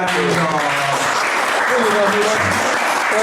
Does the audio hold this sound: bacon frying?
no